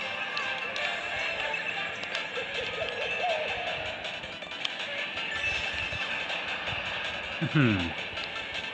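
A train in Mario Kart 8 Deluxe on Nintendo Switch rumbles and clatters steadily at moderate level under other game sounds. A short sweeping tone is heard near the end.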